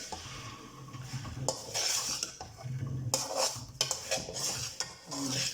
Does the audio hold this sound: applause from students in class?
no